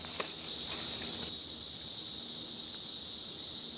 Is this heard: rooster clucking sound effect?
no